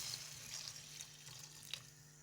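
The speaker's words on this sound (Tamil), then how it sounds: "இப்போ இதுக்கு தேவையான அளவு தண்ணி ஊற்றிக்கலாங்க." Water pours into a mutton curry masala in a Madurai-style mutton kulambu, a soft, steady, faint trickle and splash lasting a couple of seconds with no voices.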